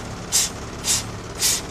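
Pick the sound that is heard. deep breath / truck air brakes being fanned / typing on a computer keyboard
truck air brakes being fanned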